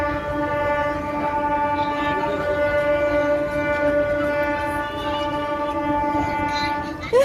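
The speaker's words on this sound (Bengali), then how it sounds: "তো ট্রেনে উঠে পড়লাম, ট্রেন চলে এসছে।" A passenger train running, with a loud, steady whistle-like tone held throughout over continuous rumbling rail noise, close by.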